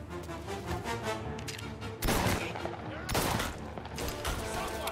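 Gunfire erupts in the Mafia: Definitive Edition shootout. A continuous rattle of shots runs throughout, with two louder, heavier bursts standing out, all dense and close.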